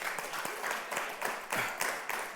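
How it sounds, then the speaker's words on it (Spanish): Congregation applauding at a Sunday church service, a faint, somewhat distant spread of clapping with irregular louder bursts and a few sharp individual claps standing out. "Dele un aplauso al Señor."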